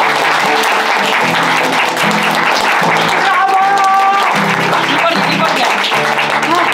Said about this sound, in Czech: tady ten potlesk byl takový jako 5 z 10